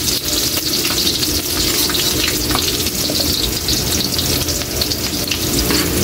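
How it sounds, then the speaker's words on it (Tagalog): Onions and bagoong sizzle steadily in a hot pan for pork kare-kare, a continuous bright crackling fry with no pauses. "Gigisa muna natin, Kaylee, ang ating sangkap sa ating bagoong"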